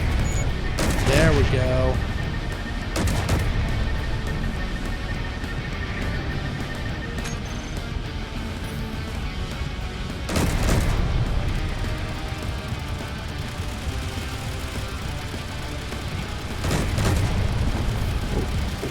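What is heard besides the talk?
ship guns firing at drones in the video game Space Engineers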